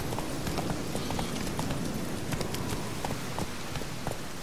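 A horse's hooves clip-clop in a steady trot in The Witcher 3, moderately close, with a soft rain-like hiss running underneath.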